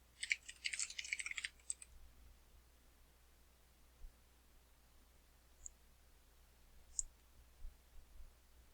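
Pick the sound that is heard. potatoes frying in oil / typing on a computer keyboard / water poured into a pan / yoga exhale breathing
typing on a computer keyboard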